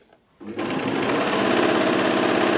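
A Pfaff Admire Air 7000 overlock sewing machine stitching fabric. After a brief quiet start and a few handling sounds, it starts up and runs close and steady, a loud, fast, even whirring hum.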